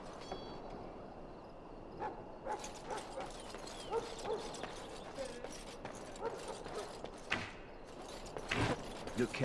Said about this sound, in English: This wretched thing is a dog